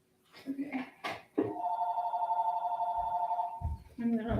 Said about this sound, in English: who the fuck is calling on my home phone?